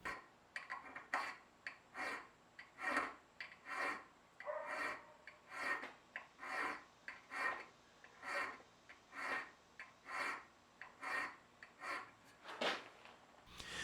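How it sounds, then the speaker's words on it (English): A round file rasps across a steel knife blank in steady back-and-forth strokes, about fifteen evenly spaced scrapes, close and clear with no voices. "By filing it with a round file, you'll save yourself a lot of heartache sanding later"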